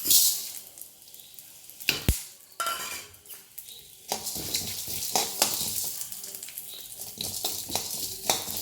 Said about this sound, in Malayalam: ഒരു ചട്ടി ചൂടാൻ അടുപ്പ് വെച്ചിട്ട് കുറച്ച് എണ്ണ ചെറിയ ടീസ്പൂൺ എണ്ണ ഒഴിച്ചു കൊടുത്തിട്ട് നമുക്കിതൊന്ന് വറുത്തെടുക്കാം